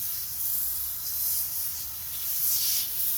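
Water spray rinsing soil off kale leaves in a 30-gallon grow bag, a steady soft hiss that swells and fades slightly over a few seconds, close by with no talk.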